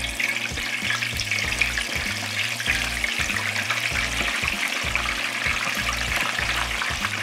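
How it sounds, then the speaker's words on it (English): Chicken wings for raspberry hot wings fry in hot oil with a constant bubbling sizzle, while steady rhythmic low thumps pulse underneath throughout. "So we're dropping our chicken in"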